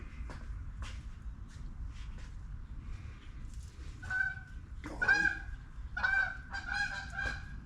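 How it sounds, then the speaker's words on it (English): Canada geese honking as they fly over outdoors, several loud overlapping honks building in the second half over a low background rumble, no talk. "Canadian geese. Those things are illegal to shoot."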